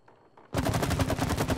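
Guns at a shooting range in It Takes Two open up after a quiet moment with a loud, rapid, evenly spaced burst of automatic fire that runs to the end, close and steady.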